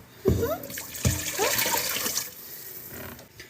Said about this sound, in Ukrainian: Пів літра води виливаємо.